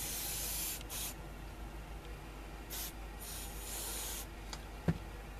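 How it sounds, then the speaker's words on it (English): Cleaner is sprayed onto the switch of a 1977 Russian Meridian 201 transistor radio, several short close aerosol hisses in quick succession, followed by a small click. "The switch, first of all, I'll give it a spray"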